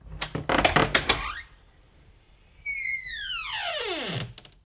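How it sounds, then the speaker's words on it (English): A door being opened in a dramatized story scene, heard as a burst of clattering thumps followed after a pause by a loud creaking hinge squeal that slides downward in pitch and fades, with no voices. "Suddenly, Sicily hears someone opening the door."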